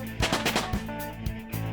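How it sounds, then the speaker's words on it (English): Gunfire in the video game Persona 5 Royal comes as rapid, punchy bursts of shots in quick succession over a steady game soundtrack, moderately loud. "A little bit of gunfire to take you down."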